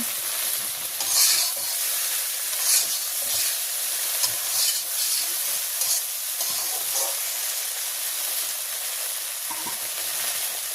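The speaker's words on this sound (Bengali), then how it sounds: "মাছ দিয়ে একটু কষাই নেব। কষাই মানে একটু ভাজি ভাজি করে নেব।" Fish fries in mustard oil in a pan for a village-style dish, and the hot oil keeps up a constant loud hiss. Occasional scraping and stirring noises rise and fall over it, and no voice is heard.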